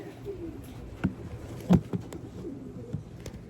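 Pigeons in a breeder's loft, soft low cooing calls at moderate distance over a quiet background, with a few sharper knocks or flutters in between.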